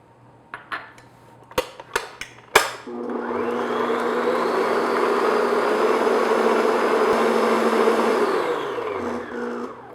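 A few sharp clinks of an egg tapped against a bowl, then an electric mixer whirs steadily for about six seconds beating the egg into cake batter before winding down, with no one talking.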